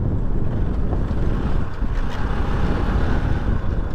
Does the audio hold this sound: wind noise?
yes